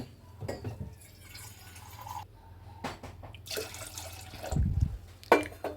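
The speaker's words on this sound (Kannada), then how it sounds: "ಇದರಲ್ಲಿ ಫುಲ್ಲು ನೀರು ಹಾಕ್ಕೊಳ್ತೀನಿ ನೋಡಿ" Water is poured into a drinking glass, filling it fully, with intermittent pouring and trickling bursts and small clinks close by.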